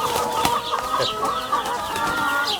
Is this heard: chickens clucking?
yes